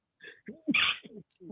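A single sneeze bursts out in the middle of a close, quiet indoor talk show, sharp and loud, set among short bits of nearby speech before and after.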